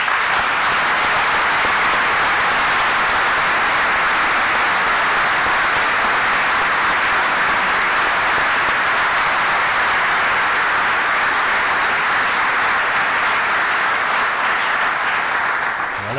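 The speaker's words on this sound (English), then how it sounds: "And I think that deserves an extra round of applause" A large crowd at a university summer graduation ceremony gives a sustained round of applause, a thick, even roar of clapping that holds at full volume for the whole stretch with no speech over it.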